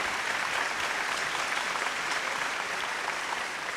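Sustained audience applause at the Digicel Stars 2015 talent show in Haiti, a dense, steady wash of clapping hands from a large crowd that continues unbroken at even loudness throughout.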